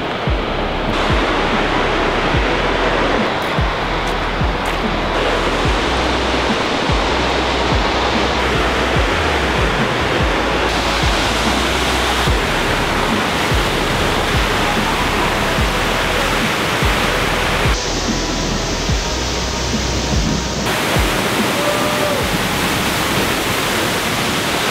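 A waterfall roars as a constant, dense wash of rushing water, loud and close throughout, with gusty wind blending into the spray noise.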